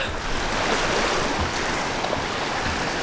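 Lake waves wash continuously against a sandy shore at a campground, a steady broadband rush close to the microphone with some wind buffeting, no voices.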